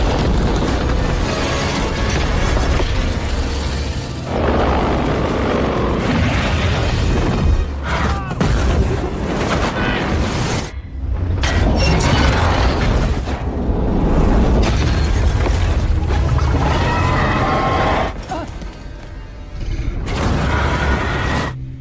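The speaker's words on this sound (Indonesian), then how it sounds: "Rathalos juga menyerang semua tentara dengan semburan apinya." The monster Rathalos unleashes fire breath on soldiers, loud roaring blasts and booming bursts that surge and cut off repeatedly amid dense cinematic rumble.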